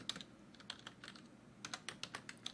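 Keys clacking on a computer keyboard in short bursts with brief pauses, close and fairly quiet, no voices.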